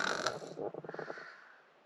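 A person snores once: a harsh inhaled rasp that breaks into a fluttering, rattling snore and fades out, close and fairly quiet.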